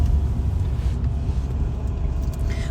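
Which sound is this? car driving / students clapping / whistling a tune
car driving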